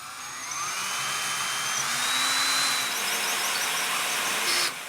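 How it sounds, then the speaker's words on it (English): A cordless drill bores a large hole for an exterior door knob on a shed door, a steady close whine that holds for several seconds before cutting off abruptly near the end. "I'm going to make this cordless drill work"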